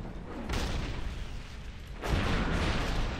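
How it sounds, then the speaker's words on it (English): The Defias cannon in World of Warcraft fires at a door with two heavy booming blasts about a second and a half apart, each followed by a rumbling decay, near and loud. "Now, we use the Defias cannon to make a..."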